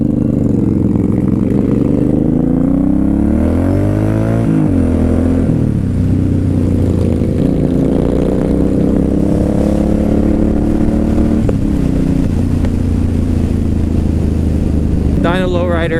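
A Suzuki Boulevard M109R motorcycle rides along with its engine droning and shifting pitch as it accelerates and settles, loud and close throughout, with a rider's voice over the engine.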